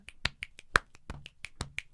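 Crisp finger snaps in a quick, fairly even rhythm, about a dozen sharp clicks in under two seconds, close and clear with no talking, used to stand in for a triangle in body percussion.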